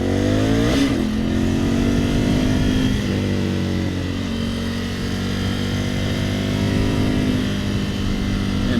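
A 2020 Ducati Scrambler 1100 motorcycle rumbles steadily while being ridden in its most aggressive mode, engine pitch climbing and easing with throttle, close and continuous.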